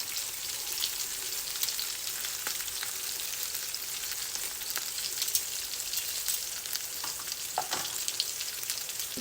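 Meatballs sear in a hot pan, a steady, fairly quiet crackling sizzle that runs throughout with scattered small pops.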